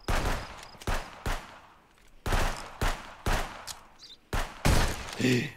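Gunfire in a customs-police video game at a border checkpoint: repeated loud bursts of shots in uneven clusters, each sharp crack trailing off, with brief gaps between volleys.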